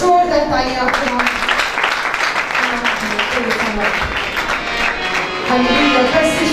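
A church congregation at a Sunday meeting breaks into applause, steady clapping blended with a loud voice and musical tones running throughout.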